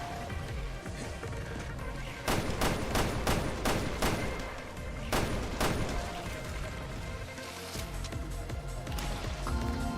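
Gunfire in a Resident Evil game, a string of loud, evenly spaced heavy shots ringing out in the middle over a constant dense rumble of in-game ambience and action.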